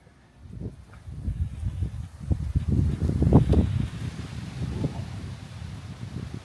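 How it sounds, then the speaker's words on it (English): Outdoors among tall wild grasses or reeds, a gust of wind builds into a low rumbling rush with rustling, swelling in the middle and easing off, close and fairly loud with no talking. "Neat gust of wind."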